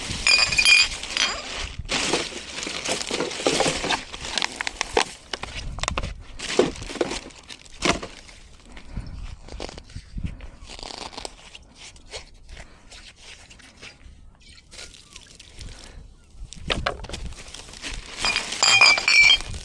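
Glass bottles gathered as litter along the River Axe at Brean Sluice clink and knock together in irregular bursts, with crinkling debris, loud up close and broken by quieter stretches.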